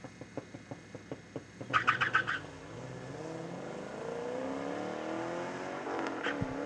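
A Chevrolet Camaro and a Pontiac launch side by side at a drag strip, engines burbling in pulses before a sharp burst of revving and tire noise, then a long loud roar as they pull away.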